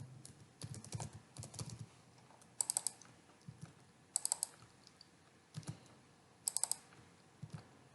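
Fingers tap on a computer keyboard in quick bursts of clicks separated by short pauses, close and fairly quiet, with several sharper clustered keystrokes standing out.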